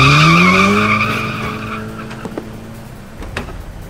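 A car skids with a loud, close tire squeal that slides downward and fades over a couple of seconds, followed by quieter scuffing and thumps.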